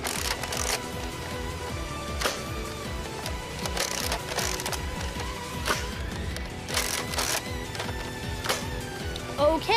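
A Nerf Zombie Strike Slingfire blaster fires darts with a series of sharp, close mechanical snaps and clacks spaced a second or two apart. Softer handling and reloading rattles run between the shots.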